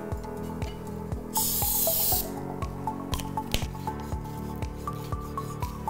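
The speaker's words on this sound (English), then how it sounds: "I'm gonna give my knife a quick spray of cooking spray so that the fruits don't stick" A short, bright hiss of cooking spray is misted onto a kitchen knife, lasting about a second amid soft handling clicks and scrapes before fruit is chopped.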